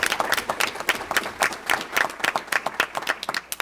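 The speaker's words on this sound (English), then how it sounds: "a huge round of applause to the entire Churchill Interact Fund" An audience applauds at a Livonia Public Schools board meeting, a dense, steady patter of many hands clapping close by, holding at an even level for several seconds with no talking.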